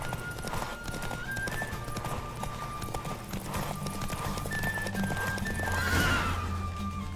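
A horse gallops with steady, rapid clip-clop hoofbeats through a Witcher 3 video game horse race, a whinny rising near the end, with no talk over it.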